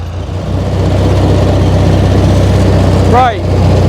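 An HT23 lawn tractor with a vertical exhaust drones loudly and steadily at close range while cutting grass, a constant low engine hum running throughout, with a brief higher whine near the end.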